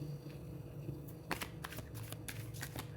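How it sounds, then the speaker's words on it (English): Tarot cards being shuffled by hand, a run of quick crisp riffling bursts that starts partway in and repeats in uneven clusters, close and fairly quiet over a low steady room hum. "Let's shuffle this card first."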